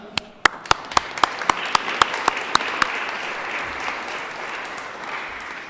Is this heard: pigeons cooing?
no